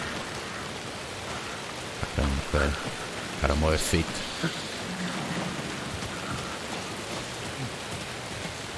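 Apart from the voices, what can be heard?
rain falling in video game Alan Wake 2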